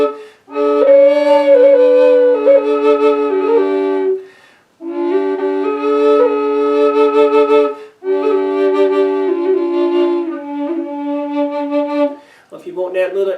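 A custom bass D Native American drone flute in 432 Hz, blown without tonguing, sounds three long phrases of steady breathy drone with a wavering melody line above it. Short gaps separate the phrases, and a brief murmur comes at the end.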